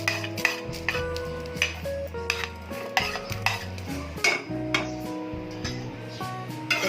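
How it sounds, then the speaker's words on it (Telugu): Coriander seeds are stirred in a dry kadai, with a spoon scraping and rattling the grains in steady close strokes under quiet background music. "కడాయిలో ధనియాలు వేసుకుంటున్నామండి"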